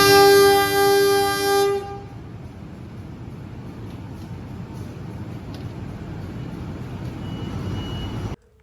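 The Airlangga passenger train, running Jakarta service, sounds a long, loud, stepped horn blast as it pulls out of Lamongan station in Indonesia, then settles into a steady, even rumble of the train rolling on the rails.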